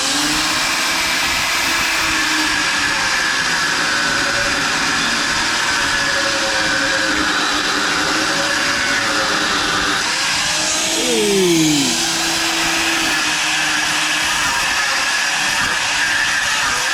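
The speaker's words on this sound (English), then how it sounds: "I probably should have a guard on the grinder" A steady, loud grinding roar from an angle grinder without a guard runs throughout, with a brief pitch sweep near the middle as the disc bites into rusty metal on an old trawler.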